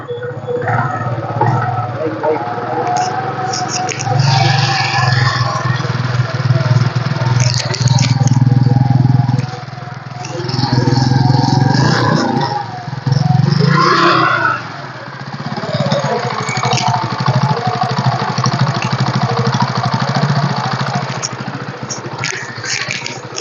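TVS XL Super heavy duty 2020 moped with a 100cc four-stroke engine, heard starting and then idling with a steady low putter, loud and close, with someone talking over it at intervals.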